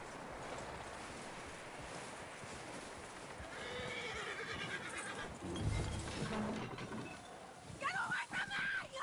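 A skittish horse in Red Dead Redemption 2 whinnies and neighs near the end, with hooves clip-clopping underneath amid steady outdoor ambience and some talk.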